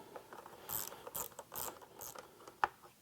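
A hand ratchet with a T25 bit backs out a bottom bolt on a KTM 790 Adventure motorcycle, giving a quiet run of rhythmic clicking strokes close up, then one sharper click near the end.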